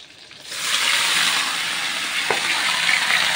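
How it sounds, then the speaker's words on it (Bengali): Steady, bright sizzling of fish frying in hot oil, close by, with a brief clink partway through. "একদিকে মাছ ভাজা দিয়েছি, আরেকদিকে অন্য কড়াইয়ে"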